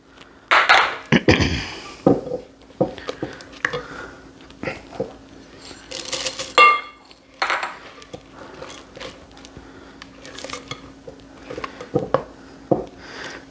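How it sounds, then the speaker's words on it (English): Chocolate chips folded into thick bundt cake batter in a bowl, with irregular clinks and scrapes of a utensil against the bowl, close and intermittent. "And we'll fold in our chocolate chips."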